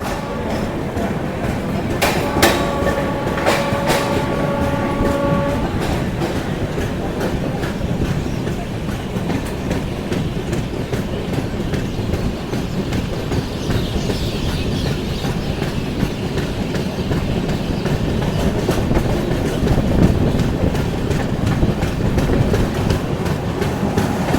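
The Howrah–Puri Shatabdi Express rolls along the rails with a steady rumble and rhythmic clickety-clack, continuous and fairly close, heard on board, with a brief horn-like tone early on.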